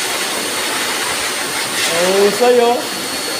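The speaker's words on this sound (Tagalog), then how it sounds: "nag-blower na si Yori" A pet blower runs with a loud, continuous roar while a dog is dried during grooming at a pet shop, and a voice briefly speaks over the steady airflow.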